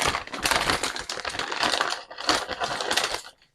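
Crinkly plastic rustles and crackles steadily as a parts bag from a Kyosho Scorpion RC car kit is opened, close and fairly loud, with a brief pause in the middle before more crumpling.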